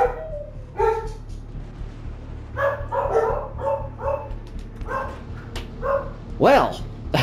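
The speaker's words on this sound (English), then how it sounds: "the puppies barking at me" Puppies bark and yip repeatedly in short high bursts, one ending in a whimper. The sounds come from nearby over a low steady hum, and a voice is faintly audible at times.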